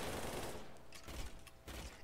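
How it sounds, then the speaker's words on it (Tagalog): Gunfire in a Minecraft game, heard as a dense burst of rapid shots followed by a few scattered sharper cracks, fairly faint and with no voices. "Sniper yung baril nila."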